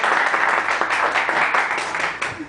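A studio audience claps through a show, a dense, even wash of applause that runs on without a break.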